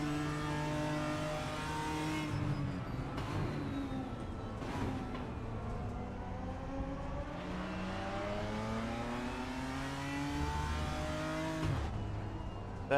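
A race car engine in the RaceRoom racing game revs through repeated climbing sweeps, with upshifts and dips between them. It stays steady and fairly close for the whole stretch, and no one talks over it.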